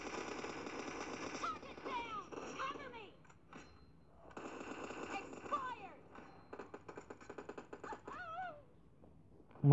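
Rapid gunfire bursts in the mobile game PUBG Mobile played on an iPhone 6, quick rattling shots in clusters mixed with game effects and warbling tones, heard beneath someone talking.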